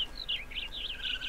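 Birds chirp and tweet in a modded Minecraft game, a steady run of bright, warbling calls at moderate volume over a quiet background, with no talking.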